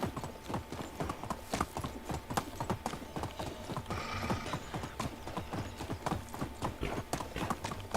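A horse's hooves clip-clop at a steady trot in the video game Medieval Dynasty, a quick even rhythm of distinct hoofbeats heard alone throughout.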